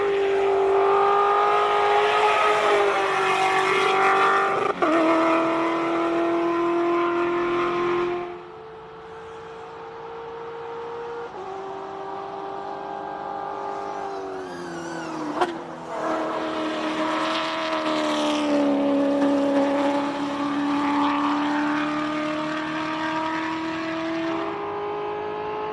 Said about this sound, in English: It's got a GTR engine in it. Here we go, Philip Puerta, have a listen to this.